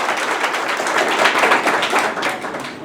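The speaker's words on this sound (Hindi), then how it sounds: "मैं चाहूंगा कि उसके लिए एक जोरदार ताली बजाएं" A crowd at a village coaching centre's toppers' celebration claps loudly and steadily, a dense unbroken wash of applause with no voices.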